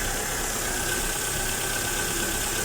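A Mitsubishi Lancer's carbureted 4G13 engine idles steadily with a constant low rumble and faint mechanical ticking, close by and uninterrupted.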